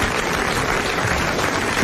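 A studio audience on a 1981 French television show breaks into applause, a dense, loud, steady wash of clapping filling the brief moment with no voices over it.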